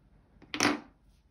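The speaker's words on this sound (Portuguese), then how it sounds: "Vou cortar o fio." Scissors snip through crochet thread while a sunflower coaster is being made: a single crisp, close cut, brief and quiet against near silence.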